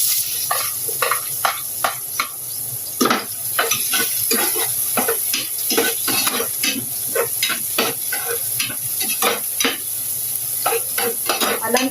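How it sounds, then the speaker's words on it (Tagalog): Onions sautéing in hot cooking oil in a Filipino home kitchen, with a steady close sizzle and repeated scraping stirs every second or so, spatula strokes standing out over the constant frying hiss. "Lantahin mo natin yung sibuyas. Pagka ano nalanta na sa, sa mantika"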